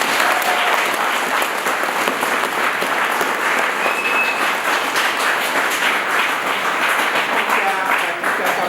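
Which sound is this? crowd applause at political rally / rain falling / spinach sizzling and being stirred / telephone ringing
crowd applause at political rally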